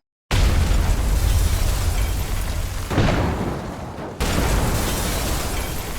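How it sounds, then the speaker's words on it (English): Explosions in the video game GTA V, heavy booming blasts with a deep rumbling roar, one continuous loud eruption followed by a second burst after a brief dip. "the different types of explosions, which are very useful for action scenes"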